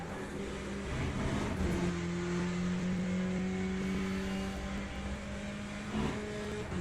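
A GTE race car engine in the Le Mans Ultimate racing game drones loudly and steadily at high revs, with a brief dip and climb near the end.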